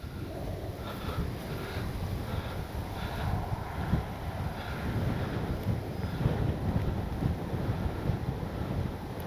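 Steady strong wind buffeting the microphone at an RC plane flying field, a continuous low roar with gusty surges throughout, no voices.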